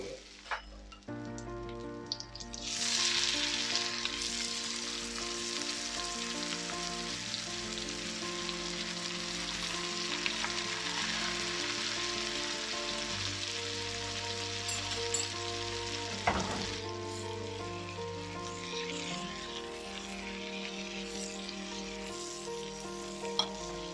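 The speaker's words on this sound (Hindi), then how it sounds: "हम गार्लिक क्लोव्स डालेंगे और जो हमने स्टेक को स्लाइस किया वो रखेंगे।" Sliced beef steak and garlic cloves fry in a pan over moderate heat, making a loud, continuous sizzle that holds steady throughout over a sustained tonal musical bed.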